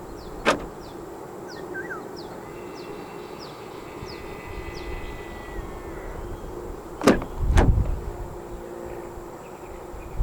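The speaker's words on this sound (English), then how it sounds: "To lock the car, press the indentation on any of the front door handles." Door locks on a 2023 Volkswagen Golf 2.0 TSI GTI give a sharp click, then two quick clicks several seconds later, fairly faint against steady outdoor insect chirping.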